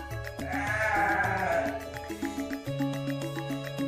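Sheep bleat repeatedly in a pen bedded with sawdust, several overlapping calls nearby, loud and wavering, with no talk.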